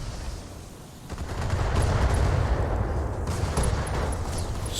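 Heavy mortar barrage in Battletech, modded Roguetech, during a base assault: a dense, rumbling roll of explosions that swells after a quieter start and keeps booming steadily, loud and with no voices over it.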